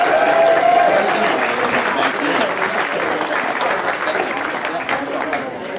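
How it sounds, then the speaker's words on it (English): Crowd applause at a baseball game between the Chatham Barnstormers and Brantford Red Sox, a steady round of clapping for a player from a stadium audience, with some voices mixed in and a brief tone near the start. "Let's give him one more round of applause."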